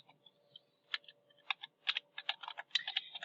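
Light, quick keystrokes tap on a computer keyboard in uneven bursts, close and fairly quiet, with no talking.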